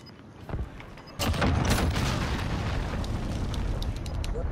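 A cruise missile explosion in Call of Duty: Modern Warfare, a sudden deep boom that swells into a sustained rumbling roar, fairly distant and muffled, lingering for several seconds after a quieter stretch.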